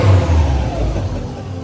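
A rebuilt Prodrive Subaru WRX GB270 engine runs loudly and close by in a workshop, a deep steady rumble with a slight swell as it revs, then settling.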